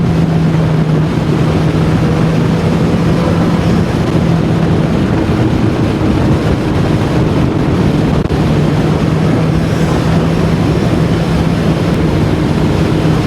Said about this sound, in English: even with the earplugs I can kind of still hear the wind noise